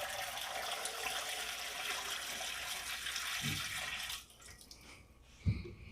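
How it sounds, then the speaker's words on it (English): Two quarts of water poured into a Presto pressure cooker, a steady splashing rush for about four seconds that then stops, followed by a couple of soft knocks. "We have 2 quarts of water here. I'm going to pour this in"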